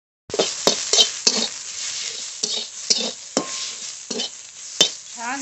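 Ghatkol greens stirred in a pan to cook off the water, repeated scraping strokes of a metal spatula with clinks against the pan and a light sizzle, close and steady.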